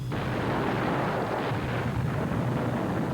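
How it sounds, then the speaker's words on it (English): A film-set explosion effect on the 1986 Short Circuit shoot sets off a sustained, loud, rumbling blast that roars continuously for a few seconds without pause. "Ready, 3, 2, 1, explode!"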